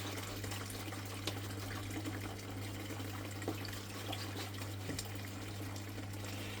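Mucky gold-prospecting gravel is sloshed and washed around in water, a continuous close swishing and trickling over a low steady hum.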